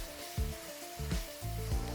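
Minced meat and freshly chopped garlic sizzle in a frying pan, a steady crackling fry broken by a few scraping stirs of a utensil, with no talk.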